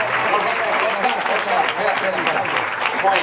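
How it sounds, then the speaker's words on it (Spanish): Sustained applause from a crowd at a football club's season presentation, honoring two coaches, steady dense clapping throughout with faint voices mixed in. "Fem de aplauso per a ells"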